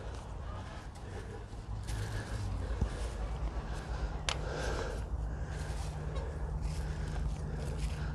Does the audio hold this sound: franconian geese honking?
yes